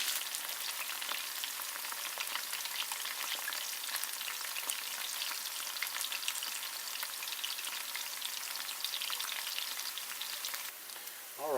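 Okra fries in hot oil with a steady, close, continuous sizzle and fine crackle that holds at an even level throughout, with no voices.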